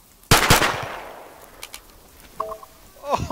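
Gunfire from the military video game ARMA 3: one loud, close burst of shots with a ringing tail, then a few fainter cracks and clicks as the sound trails off.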